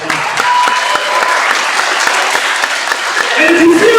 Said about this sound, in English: we should give a round of applause for that